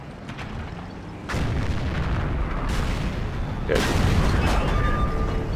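Tank cannon fire in the World of Tanks video game, two heavy booms in quick succession over a continuous rumbling engine bed, with a brief spoken word.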